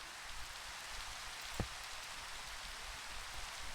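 Steady rain falls in the Minecraft video game, a continuous even hiss with one brief sharper tick partway through and no talking.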